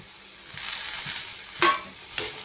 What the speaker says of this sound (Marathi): डाळ घातली आहे. आता 1-2 मिनिटाला छान परतून घेऊया.